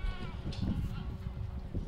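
A herd of goats and sheep in a desert setting at sunset, bleating in short overlapping calls at moderate distance, mixed with low background rumble, no talk heard.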